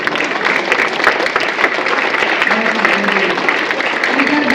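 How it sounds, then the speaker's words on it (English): An audience at a school parliament investiture ceremony claps for the teachers, a sustained, even wash of many hands clapping in a reverberant hall, with faint voices murmuring underneath. "I think today I would like to clap for the teachers."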